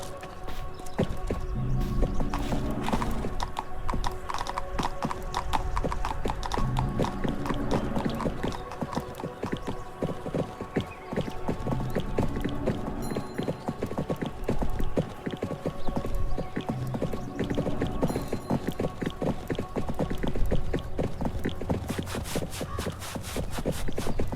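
Horse hooves clip-clopping in the video game 1428 Shadows over Silesia, a steady rhythmic walking beat of hoofsteps with a faint repeating ambient background, no voices.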